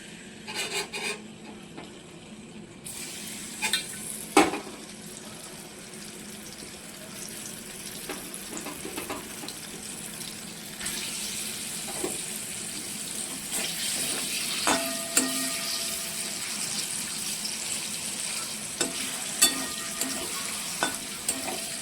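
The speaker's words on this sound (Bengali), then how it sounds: "এবার পনিরগুলোকে ভেজে নেব হালকা করে" Steady frying hiss of paneer in oil in a wok fills the clip, with scattered scrapes and clicks of stirring; no voices.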